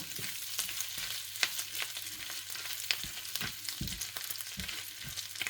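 Bacon strips crisping in their own rendered fat in a pan, a steady close crackle and hiss with scattered sharper pops throughout, no voices.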